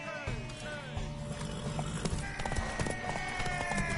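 Horse hooves clip-clop in The Witcher 3, a steady trotting rhythm close by, layered with game music and ambient tones while voices talk over it.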